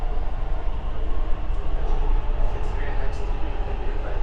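A Dubai Metro train runs through an underground tunnel, a steady loud rumble and roar of wheels and carriage throughout, with faint squeals above it.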